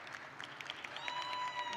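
Spectators at a collegiate track and field jumping competition applaud a strong attempt, a distant, steady patter of clapping from a sparse crowd with a faint whistle rising toward the end.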